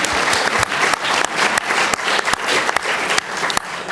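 An audience at a round table discussion on the Iran nuclear deal claps loudly and steadily for several seconds, a dense wash of many hands with individual sharp claps standing out, close and continuous throughout.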